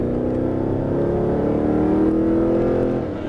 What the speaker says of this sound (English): Steady throttle up and over and back in the gas.